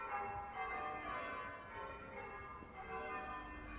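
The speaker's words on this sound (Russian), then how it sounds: "Башня этой церкви высотой 30 метров, и в ней колокол 1759 года. Вы сейчас слышите его звук." A church bell cast in 1759, ringing from the 30-metre tower of St Andrew's church in Cheddar, a faint, distant, sustained metallic tone with a soft lingering hum.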